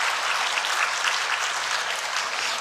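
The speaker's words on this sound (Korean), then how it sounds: "우리 박수로 한번 그렇게 우리 목사님 한번 축복해 드렸으면 좋겠습니다" A church congregation at a Sunday worship service applauds to bless their elder pastor. The clapping is even and sustained from a large crowd, moderately loud, with no voices on top.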